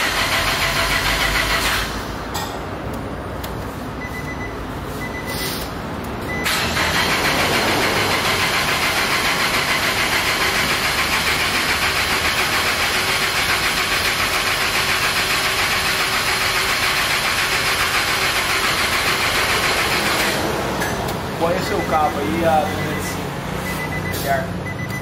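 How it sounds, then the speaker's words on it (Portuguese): A Nissan Sentra SE-R 2.5 cranking over and starting, a loud close engine churning then running steadily for a long stretch, with brief cranking bursts before and after and voices talking nearby. "E o Sentra tá com frescura pra ligar."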